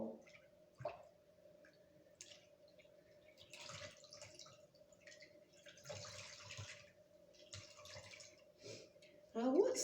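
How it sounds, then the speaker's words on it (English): A dry cloth dipped into a container of clean water gives soft squishing splashes and drips in brief bursts, close by and quiet, over a faint low hum. "I'm going to dip it into the clean water."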